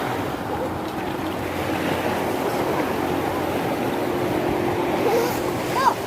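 Ocean waves washing onto a beach at Bagasbas, a steady broadband surf wash that holds throughout, with a faint voice briefly near the end.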